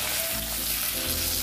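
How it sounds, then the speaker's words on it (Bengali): Fish roe fries in a pan with a dense, continuous sizzle, loud and close throughout, and no one speaks. "ওইটা আমি একটু ভেজে নেব"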